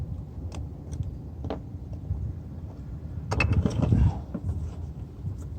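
Clicks, snaps and light mechanical rattles come from a converter being attached to a Benro MAD49C carbon fiber monopod with a gimbal head outdoors, with a busier burst of handling clatter near the middle, close to the mic and no talking.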